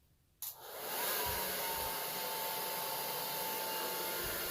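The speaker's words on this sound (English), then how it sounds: "I kind of blow dry it just a little bit, just to, I don't know, dry off some of this balm around the sides of my beard" A blow dryer starts up after a brief quiet moment and runs in a loud, steady whoosh, held close while drying balm along the sides of a beard.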